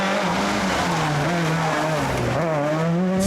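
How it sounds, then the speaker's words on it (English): An old Citroen Saxo rally hot hatch races past in France, its engine note climbing and dropping through gear changes with a loud, rasping wail and brief tyre squeal, heard close and alone. "That's an old Citroen Saxo."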